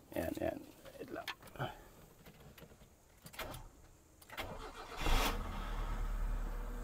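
Mitsubishi Lancer GSR with a 4G92 engine cranks and fires up near the end, settling into a steady close running note after a stretch of talking and small workshop clatter.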